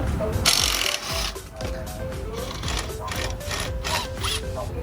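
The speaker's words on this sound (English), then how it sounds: "So we're removing the bolt on top." A bolt is worked loose under a Fiat during exhaust and catalytic converter work, with repeated metallic scraping and ratcheting strokes in an uneven rhythm, close and fairly loud, along with faint background sounds.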